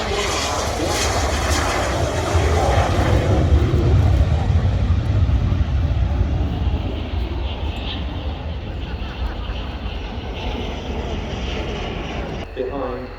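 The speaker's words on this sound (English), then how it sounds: "The Fiat G91, used by the Freccia Tricolori from pretty near its establishment" Fiat G91R jet aircraft flying at an air show, a loud sustained engine roar that swells and slowly fades as it passes, with a broad rumbling wash throughout.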